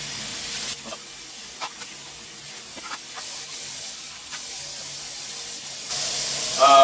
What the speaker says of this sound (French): J'allume l'eau tiède.